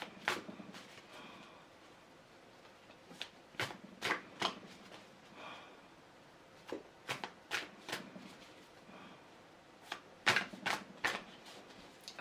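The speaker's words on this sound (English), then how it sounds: "Let us pull some tarot cards as well." Tarot cards being shuffled up close, in several separate bursts of quick riffling snaps with quiet pauses between them, no talking.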